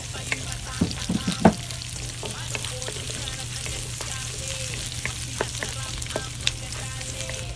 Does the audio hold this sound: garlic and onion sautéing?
yes